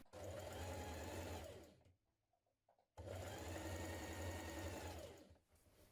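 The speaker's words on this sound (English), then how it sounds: "we're going to hem it by top stitching it from the right side" Sewing machine top stitching the hem of a Style Arc Norman jumpsuit from the right side, running in two steady bursts of stitching separated by a brief quiet pause.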